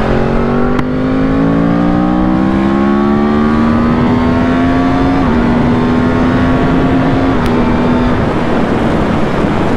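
A 2010 Yamaha R1 with a crossplane, 90-degree crankshaft engine accelerates hard, its rising exhaust note climbing steadily and dropping briefly at shifts, loud and close throughout.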